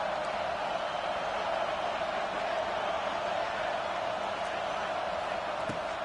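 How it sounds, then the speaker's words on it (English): Steady roar of a stadium crowd at a college football video game, South Carolina against LSU, on a fourth-down play, a dense wash of noise that holds constant throughout. "this crowd is making it miserable on this offense"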